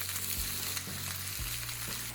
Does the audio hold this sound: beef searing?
yes